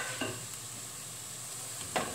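Chili peppers stir-fried in a pan while making chicken breast curry: a faint, steady sizzle with a couple of soft scrapes of the spatula.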